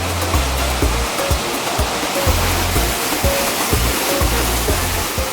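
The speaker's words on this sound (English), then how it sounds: "Waterfalls. It's not really big, but it's very beautiful and wide." Soco Falls near Maggie Valley, North Carolina, a wide waterfall, fills the air with a steady, loud rush of falling water, dense and unbroken, with faint low thumps underneath and no voices.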